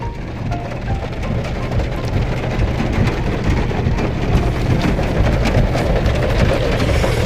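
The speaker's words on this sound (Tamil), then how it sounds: "செம்மையாக மழை பெய்யுது இப்போ வெளியில்" Heavy rain pours down outside during a family trip to the Kodaikanal hills, a steady, dense roar of rainfall that stays loud and even throughout without any talking.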